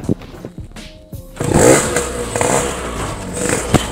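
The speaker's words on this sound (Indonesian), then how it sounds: "Nah, ini dia suara motornya." A Yamaha RX King motorcycle with a standard exhaust and a restored engine runs close by, its two-stroke idle rising into a loud, rough rev with clattering mechanical noise.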